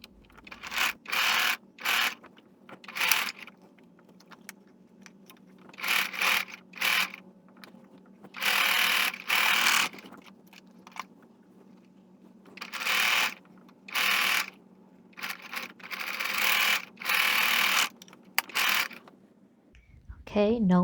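Sewing machine stitching fabric for a face mask at a quarter-inch seam, running in repeated short bursts of fast rattling, whirring stitches separated by brief stops, close and fairly loud.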